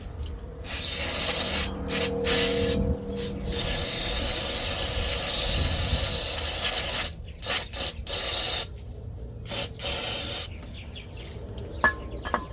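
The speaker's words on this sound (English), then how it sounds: "Now I'm gonna spray it again." An aerosol can sprays cleaner on a truck transmission part in long, steady hissing bursts, then several short spurts with pauses between, close by and loud.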